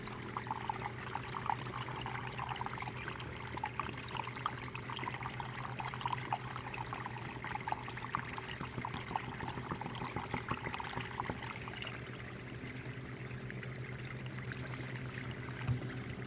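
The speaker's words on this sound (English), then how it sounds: "I think I'm actually going to increase the water flow and then continue." Water runs steadily through a gold sluice for a cleanup test of tailings, a continuous broad rush and trickle with a low machine hum beneath, close and unbroken for the whole stretch.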